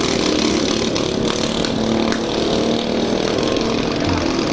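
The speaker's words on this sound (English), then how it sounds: "these little lawnmowers keep on running and keep running" Small lawn mower engines racing in an extreme destruction derby, a loud, continuous buzzing drone with rough revving and faint clanks, running steadily without talk.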